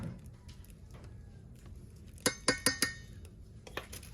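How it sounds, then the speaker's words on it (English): Beef and ampalaya being stirred with cornstarch in a bowl, heard as a quick run of four bright utensil clinks against the dish, then a couple more taps, fairly faint and close. "Continue to mix until all the ingredients are well blended."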